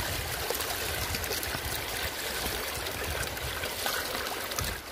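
Steady water flowing and trickling into a cold bathing well at the foot of Mayon Volcano, a continuous close splashing wash with no talk.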